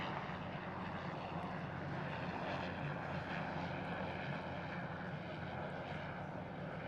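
A Sky Sports camera helicopter passes over an outdoor school athletics meet at Hurstpierpoint College, making a steady, distant engine drone that stays even and fairly faint throughout, with no voices.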